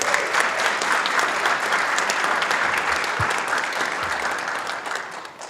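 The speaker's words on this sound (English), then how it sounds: "Let's give Lupe another round of applause." An audience at a community volunteer awards and recognition event claps steadily and fairly loudly throughout. The applause fades a little near the end.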